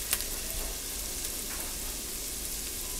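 Microplane-grated garlic sizzles and crackles steadily in a pan, a quiet continuous frying hiss with no talking.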